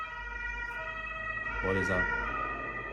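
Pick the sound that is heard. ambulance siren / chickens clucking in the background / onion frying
ambulance siren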